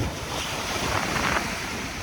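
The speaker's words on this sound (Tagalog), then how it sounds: "Biglang lumakas ang hangin." Strong typhoon wind gusts over Manila Bay, a steady loud broadband roar buffeting the microphone with surf-like washing, sustained throughout without any voices.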